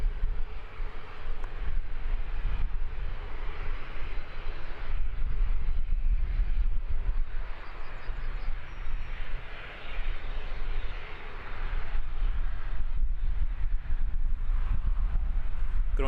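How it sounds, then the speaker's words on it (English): A Parcel Air Boeing 737-400 passes at Christchurch Airport in New Zealand at sunset, its jet engines a loud, sustained roar that swells and rumbles throughout. "Parcel Air coming over to us shortly as well. Boeing 737-400."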